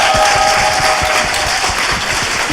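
Dense, loud audience applause from a live talk show crowd, continuous clapping with a faint murmur underneath.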